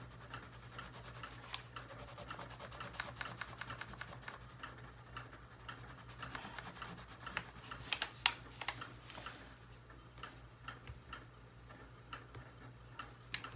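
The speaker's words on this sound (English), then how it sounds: "Take the wood off that pencil a little bit." A knife shaves wood off a pencil close up, producing quiet, irregular scraping and ticking strokes over a faint steady hum.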